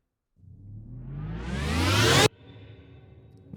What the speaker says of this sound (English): So there's this transition effect.